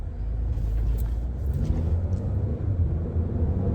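An Omoda 5 car engine accelerating uphill rumbles steadily with low, continuous power, a deep droning roar holding for several seconds with no voices.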